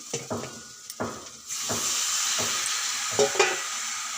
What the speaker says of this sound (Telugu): ఇప్పుడు ఉడకబెట్టిన పాస్తా వేసుకుంటాను.